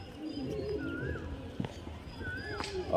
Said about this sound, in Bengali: এই যে পায়রাগুলো দেখতে পাচ্ছেন